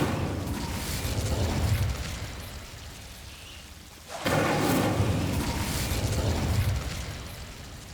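An Incendio fire spell cast in Hogwarts Legacy, a whooshing burst of flame that swells, fades, then erupts again into a loud crackling roar before tapering off.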